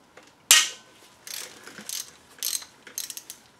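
Ratchet loosening the tensioner pulley bolt on an Audi A4 2.8 engine, a sharp initial click followed by several short bursts of ratcheting clicks, close and clear.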